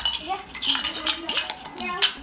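Clinking metal toy cooking pots and utensils knock together in a child's pretend kitchen play, with scattered clatter and a voice chattering faintly over it.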